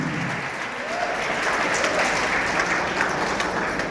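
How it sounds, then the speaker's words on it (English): Audience at a Jio 5G presentation in Kolkata bursting into steady, dense applause, loud and close, sustained without a break. "a big round of applause for what everybody guys"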